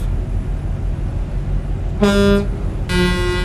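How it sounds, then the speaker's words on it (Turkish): Truck horn sounding in a truck-driving video game, with two loud, sustained honks, the first about half a second and the second longer near the end, over steady engine rumble. "Bu korna ne?"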